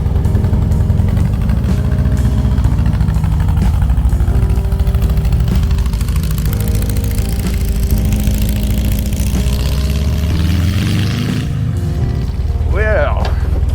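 Air-cooled engine of a 1966 yellow VW dune buggy running steadily at close range, a loud continuous low rumble with a rising whine near the end, while a person talks over it.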